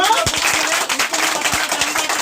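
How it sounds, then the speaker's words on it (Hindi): A crowd at a company gathering claps loudly and close by, with a rapid, dense patter of hands and sharper individual claps standing out. "एक बार जोरदार ताली हो जाए।"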